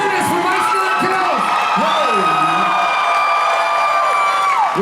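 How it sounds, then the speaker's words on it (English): A crowd cheering and whooping at a convention panel as a special guest is welcomed, loud and sustained, with high shouts and squeals rising and falling over a continuous roar. "All right, let's give an even louder welcome to Spencer Turnus from Midsummer"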